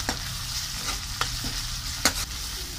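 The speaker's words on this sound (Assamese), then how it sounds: "তেতিয়া এয়া নহৰু আৰু আদাৰ পেষ্টটো মই দি দিছোঁ" Onion frying in a pan with garlic and ginger paste being stirred in, while making a pork curry; a steady close sizzle with a few sharp scraping stirs, no talking.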